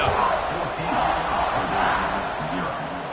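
Stadium crowd roaring steadily in a college football video game before a kickoff, a dense, continuous wash of cheering voices that swells and dips slightly throughout.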